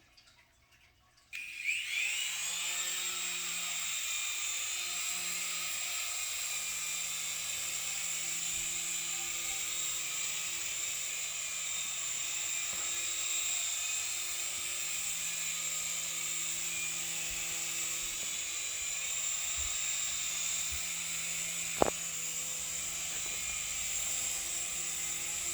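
A Syma S107G RC toy helicopter flying indoors spins up after a short pause, then holds a steady high-pitched rotor whine with a low motor buzz, close and constant, with one sharp click near the end.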